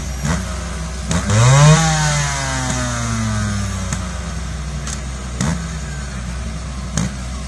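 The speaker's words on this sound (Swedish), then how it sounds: "Och motorcykeln funkar även idag." An old special motorcycle engine runs at a forestry machinery show in Sweden, revving up sharply once then settling into a loud, uneven running with occasional pops, heard near.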